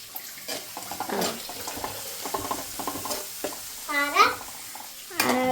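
Upma is stirred in a pan, giving soft intermittent scraping and light sizzling, with a few clinks and a brief splash of water near the end.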